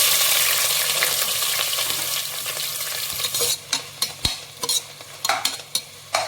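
Onion with cardamom, cinnamon, cloves and bay leaf sautéing in oil for vegetable biryani: a steady close sizzle, then a run of sharp scraping stirs and clinks from about the midpoint on, with nobody speaking.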